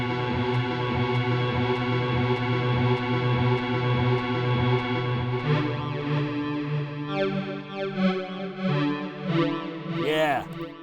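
A sustained, distorted tone from a Korg NTS-1 digital synthesizer with delay drones with swirling, repeating echoes that turn into warbling, sweeping tails near the end.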